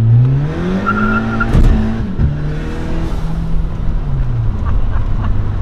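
A Volkswagen Jetta turbo adapted for a quadriplegic driver rolls along at night, its engine droning loudly and steadily with a brief squeak as it slows to brake, heard from inside the car.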